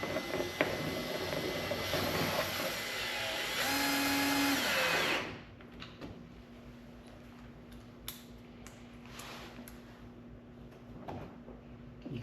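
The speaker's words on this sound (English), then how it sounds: "You don't want to drill it in tight until you have them all started" A power drill drives screws to fit a fender flare on a 2023 Can-Am Defender UTV, whirring loudly and steadily for about five seconds before winding down, followed by quiet handling clicks and taps.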